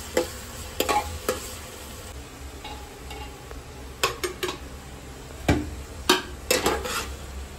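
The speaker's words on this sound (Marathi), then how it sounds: "चला कांद्याला मारून घेऊया आता." Onions sizzle softly in a pan while a spatula repeatedly scrapes and clanks against the metal in sharp, irregular bursts.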